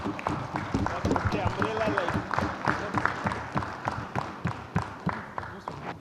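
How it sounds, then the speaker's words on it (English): An audience at a Bangalore convention gives a round of applause, with close, uneven clapping running throughout under crowd noise and some voices. "we should give a huge round of applause first"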